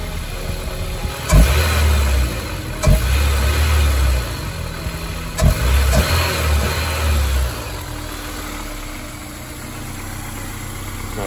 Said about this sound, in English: now let's go give you guys a sound of the intake.